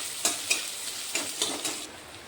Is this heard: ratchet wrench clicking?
no